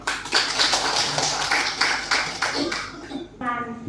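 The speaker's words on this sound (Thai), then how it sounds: "ขอเสียงปรบมือต้อนรับ" Dense, steady applause from an audience welcoming a speaker at a municipal training session for caregivers of elderly and disabled people, lasting several seconds, with a voice starting to speak near the end.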